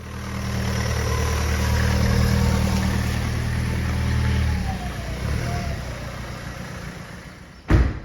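A wrecked car, once lent out and damaged over a year, is driven in with its engine droning steadily, fading as it passes and slows, followed by a sharp thump near the end.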